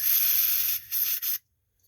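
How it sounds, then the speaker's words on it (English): Carb cleaner sprays hard through a carburetor from a Tecumseh 8 hp engine on an Agri-Fab leaf vac, a loud, close, steady hiss with two short breaks before it cuts off into silence. "I'm going to spray a lot of carb cleaner through it."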